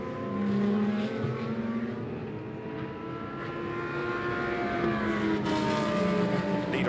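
GT2 race cars in the Fanatec GT2 European Series drop into turn 14, engines droning loudly with rising and falling pitch as they pass and shift, one after another at close range.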